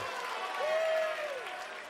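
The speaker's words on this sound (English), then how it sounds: "The crowd roaring their support at last." A darts crowd roars and applauds together, a broad sustained wash of cheering that swells and then holds, with a voice speaking over it.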